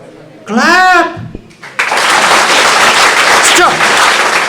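Students in a college classroom break into loud applause, a dense burst of clapping that starts after a short spoken word and continues steadily to the end, with a brief voice earlier.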